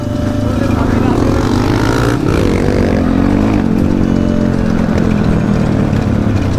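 Dirt bikes rev on a new dirt track at Chunikhel with a group of boys, their engines droning loud and close with a rising, wavering pitch as voices carry in the background.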